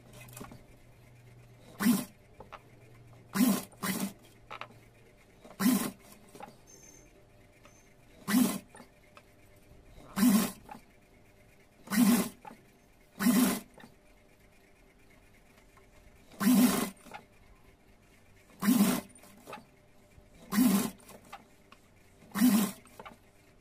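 A sewing machine stitches a skirt panel around the waist of a small doll dress in about a dozen short, separate bursts, each a quick whirring run spaced a second or two apart, close and fairly quiet.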